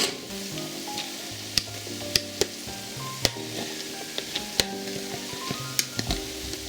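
Rice being folded into eggs frying in a pan for pork fried rice, a loud continuous sizzle broken by sharp clacks of a utensil scraping and knocking the pan at an irregular pace.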